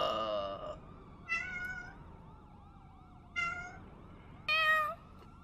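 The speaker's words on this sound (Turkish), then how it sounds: "Buraya da mı geldi o kedi?" Several cat meows inside the GTA 5 video game: a loud one at the start, then three shorter calls spaced apart, over a steady background whine and faint game ambience, with no talking.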